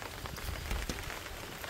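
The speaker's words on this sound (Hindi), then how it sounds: "बारिश बहुत गिर रही है।" Heavy rain pours steadily onto a surface outdoors, a dense, continuous hiss with scattered heavier drops and low rumble throughout, close and loud with no talking.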